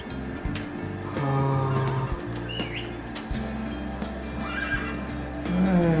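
A horse in Metal Gear Solid V: The Phantom Pain whinnies twice over a steady game soundscape, its neighs rising and falling at mid-distance while faint birdsong and ambient hum continue underneath.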